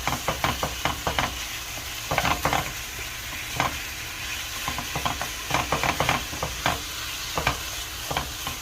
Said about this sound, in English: I'm just going to break this up and saute this.